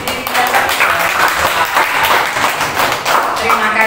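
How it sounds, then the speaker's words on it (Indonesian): A room full of people applauding Pak Budi at a school teachers' gathering, steady dense clapping that fills the whole moment loudly. "aplaus untuk Pak Budi"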